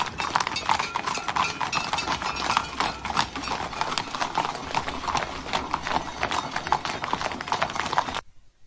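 Steady, rapid clip-clop of horse hooves on a hard surface, close and continuous, ending abruptly.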